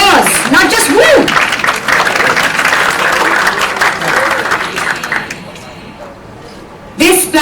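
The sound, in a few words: audience applause at fan event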